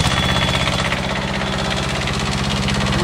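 The diesel engine of a CTE Traccess 230-75 aerial work platform runs loud and close, a steady rhythmic chugging with heavy mechanical knocking and vibration throughout.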